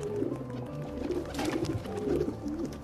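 A pigeon coos near a dovecote in the video game Assassin's Creed II, soft repeated throaty coos in a steady rhythm over a low ambient game background.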